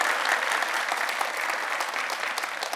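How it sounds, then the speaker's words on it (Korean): An audience at a city mayor's public town-hall event breaks into applause, a thick, sustained wash of many hands clapping at steady loudness, with no talk over it. "박수 부탁드립니다."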